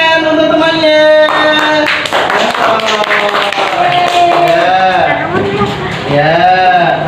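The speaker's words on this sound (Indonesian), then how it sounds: "tepuk tangan untuk temannya" A classroom of pupils applauds a classmate during a fiqh lesson, with scattered clapping mixed into loud, overlapping children's voices cheering and calling out.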